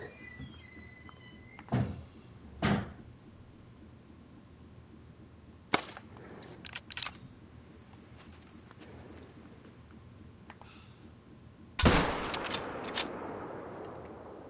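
Gunshots ring out in a deer hunting video game, several sharp cracks spread across the stretch with mechanical clicks and clunks between them, the last shot loud and followed by a decaying echo.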